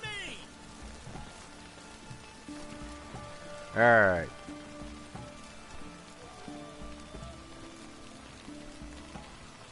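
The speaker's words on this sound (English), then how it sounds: "Yeah, it does look like rain" Steady in-game rain from The Witcher 3 patters evenly throughout, with a brief louder outburst near the middle and a short spoken word over the soft wash.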